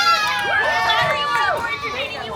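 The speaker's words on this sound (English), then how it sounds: "we're gonna vote by cheering" A festival crowd at a contest cheers and whoops loudly to vote, many high voices yelling together in a sustained, close roar with excited shouts rising and falling.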